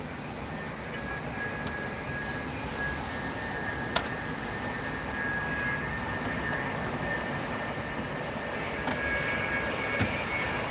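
An Airbus A330 landing on runway 27R at Heathrow Airport, with a steady broad engine roar at a moderate distance holding through the whole clip, plus a faint whine and a few light clicks.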